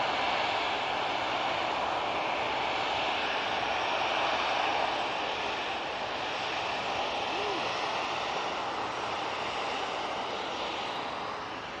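A large airliner takes off at Manchester Airport, its engines a loud, sustained broadband roar that fills the whole stretch and eases slightly toward the end.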